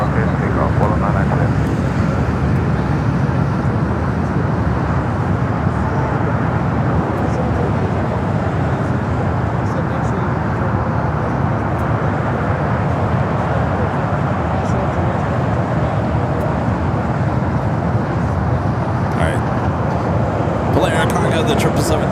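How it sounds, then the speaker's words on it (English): A Boeing 777 freighter starts its takeoff roll on runway 25 right at LAX, a broad, loud roar of jet engines building steadily and sustained throughout, with someone talking over it. "The 777 freighter heading to Cincinnati now, starting its roll down at 25 at right"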